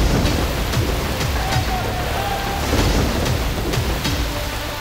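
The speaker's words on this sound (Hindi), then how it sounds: "जुड़वा शहरों में तूफानी बारिश।" Heavy storm rain pours with rushing floodwater in Islamabad, a loud, dense, continuous roar close by that stays steady throughout.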